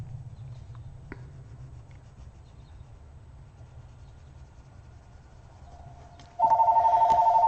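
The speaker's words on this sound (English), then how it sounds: "since the phone is ringing," A telephone starts ringing near the end, a loud, steady electronic trill that cuts in over a quiet room hum after several seconds of near silence.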